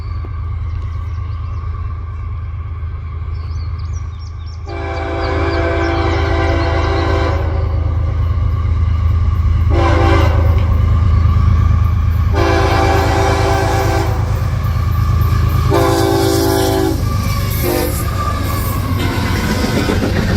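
CSX freight train M367, led by CSX 1853, passing with its horn: a deep rumble of the passing cars under loud, repeated horn blasts in several long and short bursts.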